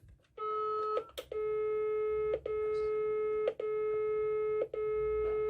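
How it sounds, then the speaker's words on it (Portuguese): Extension tone from an Intelbras 4015 PBX telephone exchange: a steady electronic tone that plays close and clear, broken by short regular gaps roughly once a second. "esse é o tom de ramal"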